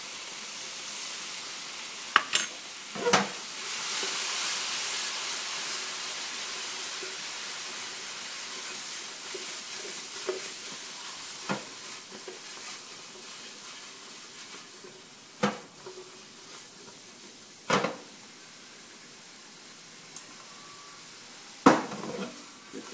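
Portobello mushrooms sizzle with balsamic vinegar in a pan, a steady hiss and steam broken by a handful of sharp utensil clinks and knocks against the pan.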